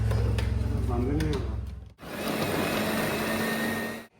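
A kitchen blender chops raw chicken with a steady, loud motor whir that stops briefly and starts again. A voice is faintly heard near the start.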